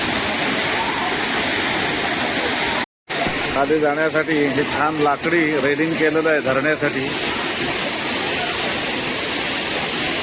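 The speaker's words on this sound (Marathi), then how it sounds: "हा धबधबा असा एक खाली जातो पूर्ण" Sawdav waterfall at Kankavli roars in a loud, unbroken rush of falling water, briefly cut off once, while someone talks over the noise through the middle stretch.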